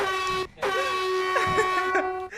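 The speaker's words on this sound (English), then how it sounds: "Air horns." A loud, blaring air horn sounds in long sustained blasts, cut by a short gap, with faint crowd noise beneath.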